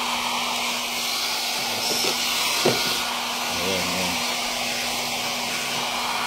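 A hot air blower drying a moisture-damaged washing machine circuit board near its photo sensor, giving a constant broadband hiss and whoosh with a steady hum, with a brief knock partway through.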